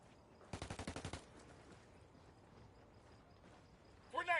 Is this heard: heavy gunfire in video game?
yes